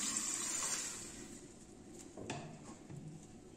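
Water is poured into a kadhai holding bathua greens for raita, producing a close, splashy hiss that fades after about a second, followed by faint gurgling and soft kitchen knocks.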